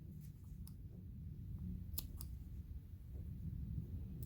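Scissors snip through crochet yarn, giving a few faint, close clicks and cuts over quiet background hum.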